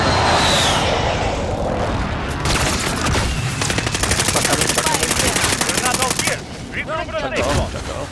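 Rapid automatic gunfire from Call of Duty: Modern Warfare multiplayer, loud and close, with sustained bursts of machine-gun fire and scattered shots amid battle noise, plus brief voice chatter in the mix.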